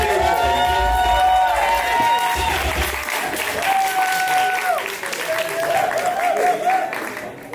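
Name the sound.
audience applause and cheering for the organization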